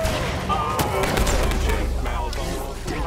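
Dense, continuous gunfire and explosions rumble in a video game battle, a loud unbroken barrage with a low booming undertone and no clear pauses.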